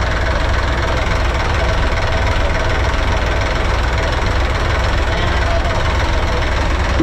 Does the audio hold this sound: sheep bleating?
no